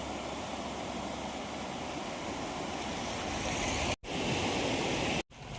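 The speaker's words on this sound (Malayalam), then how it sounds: "പുഴയെല്ലാം കലങ്ങി കുത്തിമറിഞ്ഞ് പോകുന്നുണ്ടോ" A swollen, muddy river at Melechinnar in Idukki district, Kerala, rushes after heavy rain with a loud, continuous roar of churning water. The roar cuts out twice, very briefly, near the end. No voices are heard.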